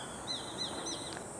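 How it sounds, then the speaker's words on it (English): A sparrow hawk calls outdoors near Zakimi Castle: three thin, rising whistled notes evenly spaced, faint and somewhat distant over a quiet background hiss. "A sparrow hawk."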